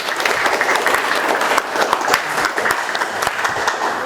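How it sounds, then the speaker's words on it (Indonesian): A class of students claps together in a classroom, a lively, sustained burst of applause with a few sharper individual claps standing out. "tepuk tangan"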